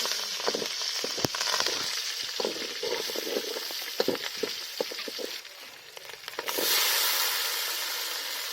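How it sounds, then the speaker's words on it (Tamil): Chillies fry in a pan with a continuous close sizzle while being sautéed, broken by scraping and stirring clicks, and the hiss swells louder toward the end. "இப்போ மிளகா போட்டுக்கலாம் இப்ப வதக்கலாம்"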